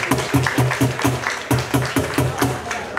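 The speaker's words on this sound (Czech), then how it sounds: "Tomík Milt, potlesk pro Tomíka Milt." Rhythmic clapping from an audience at an outdoor town festival, at a steady beat, fairly close and loud, repeating evenly over a few seconds.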